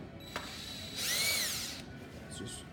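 A power driver backs screws, including a T10 star bolt, out of a Kaba Ilco 790 door lock in one short, close, whining burst of under a second, with faint clicks before and after.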